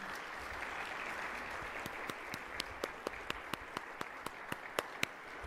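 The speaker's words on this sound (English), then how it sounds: "Let's give them a round of applause." An audience applauds after a panel talk on children's mental health, a soft crowd wash at first that thins into a few sharp, distinct claps near the end.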